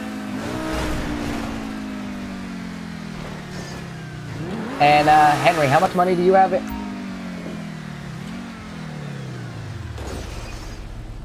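A car engine in Grand Theft Auto V drones steadily while driving, with its pitch rising and falling through revs and a brief louder surge midway, under ongoing talk.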